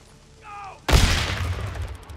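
A pipe bomb blows up in the zombie-survival game Days Gone, one sudden loud blast that rolls into a long rumbling roar after a brief faint tone.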